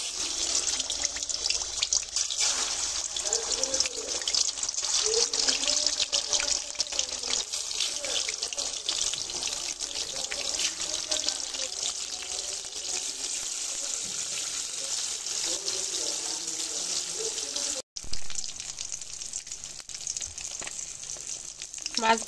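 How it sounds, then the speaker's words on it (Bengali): Fish sizzles steadily in hot oil in a pan, a dense continuous crackle that runs close and loud for the whole stretch with no voices, dropping out briefly near the end. "এবারে মাছগুলো ভেজে নেব।"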